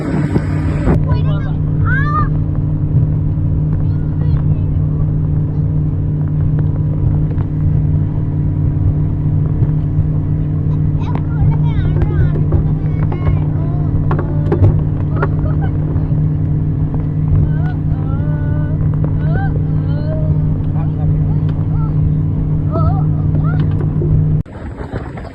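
A small private motorboat cruises in the Maldives, its engine a loud, steady drone throughout, with voices talking over the hum before it cuts off at the end.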